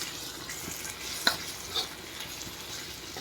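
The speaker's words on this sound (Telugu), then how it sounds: "కారం వేసి మంచిగా మిక్స్ చేసుకుందాం." Brinjal curry with chili powder frying in a pan, with a low continuous sizzle and a few sharp spoon knocks and scrapes as it is stirred, close and quiet, with no voices.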